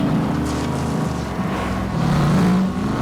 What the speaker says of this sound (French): T'entends le gros bruit des moteurs